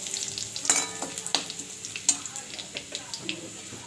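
Oil sizzling loudly as food fries in a pan, with sharp crackles and pops and a few stirring scrapes.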